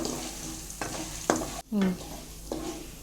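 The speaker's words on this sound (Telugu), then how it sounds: "జీలకర్ర ఆవాలు ఇవన్నీ వేసుకొని మళ్ళీ ఫ్రై చేసుకోండి" Cumin and mustard seeds, with coriander and fenugreek seeds, fry in hot oil while being pickled: a quiet, close sizzle with a few stirring scrapes and a short clank of a spoon on the pan.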